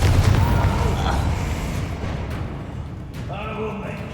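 A Confringo explosive spell goes off in Hogwarts Legacy, a booming blast that rumbles and slowly fades, followed by softer magical shimmering tones; a voice is also present.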